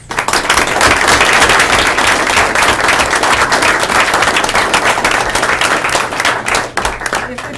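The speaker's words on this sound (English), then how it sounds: "If we can have one more round of applause for all of those who were honored this evening" A school board meeting audience gives a sustained round of applause for the Employee of the Year honorees, dense clapping that fills the room steadily from start to finish.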